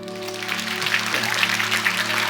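Church congregation applauding during a Sunday worship service after a choir member's performance: steady, dense clapping from many hands throughout, over a low sustained hum.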